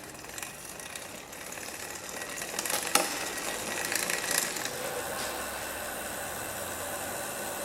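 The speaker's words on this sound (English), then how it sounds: "Let's get the back wheel spinning." Bicycle rear wheel spun on a budget clamp-style bike stand, the freewheel ticking in a fast, steady ratcheting whir with a faint mechanical hiss, close and fairly quiet throughout.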